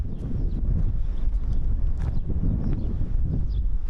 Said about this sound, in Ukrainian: вітер тут